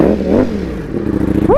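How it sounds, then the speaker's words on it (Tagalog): A big bike motorcycle engine on a test ride, a loud continuous rumbling drone with rising and falling rev pitch, ending in a sharp upward rev. "So first test ride namin ni Jamich"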